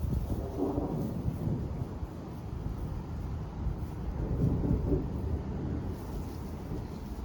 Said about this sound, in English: it's getting really dark in the distance and we keep hearing thunder